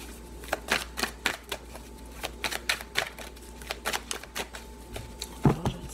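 A deck of tarot cards is cut and handled during a reading, producing a run of crisp, rhythmic card flicks and taps close by, ending in a slightly louder rustle.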